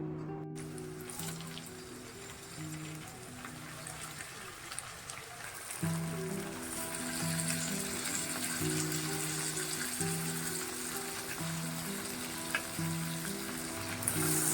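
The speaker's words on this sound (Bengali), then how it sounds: "পেঁয়াজগুলো একটু ভাজা ভাজা হয়ে গেলে এবার চিকেনের পিসগুলো এতে দিয়ে দেব" Chicken pieces frying with onions in mustard oil and ghee for biryani, a continuous close sizzle that grows louder after the meat goes in, with stirring scrapes and no talking.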